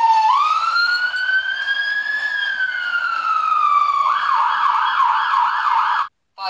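A fire truck siren wails in a long rising and falling sweep, then switches to a fast warbling yelp. It is loud and close, with no talk, and cuts off briefly near the end.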